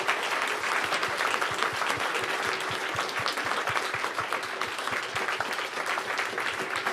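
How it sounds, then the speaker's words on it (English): An audience gives a round of applause at a climate talk featuring Peter Wadhams and Brady Walkinshaw, dense and continuous clapping from many hands, sustained and even throughout. "let's give a round of applause"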